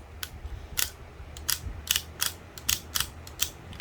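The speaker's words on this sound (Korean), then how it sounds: "허리는 360도 회전 가능한 라쳇 관절이 적용되어 있습니다" A toy robot's 360-degree ratchet waist joint clicks as it is turned, a run of about a dozen sharp, close plastic clicks in uneven rhythm against near silence.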